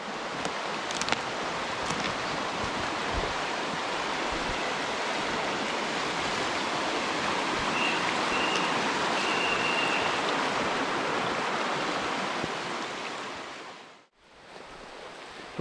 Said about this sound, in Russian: Такая речка, шустрая.